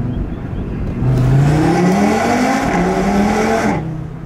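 A car accelerates hard through a tunnel, engine pitch climbing steadily through gear changes, loud and echoing, with a brief shift drop near the end before the sound fades.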